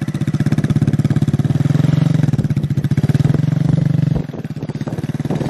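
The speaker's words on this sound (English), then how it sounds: "Pull the clutch out a little bit till you feel the bike moving. Give it a little gas." A motorcycle engine running steadily and loudly up close as the rider eases out the clutch and gives it gas to pull away, a continuous throbbing drone that drops in level near the end.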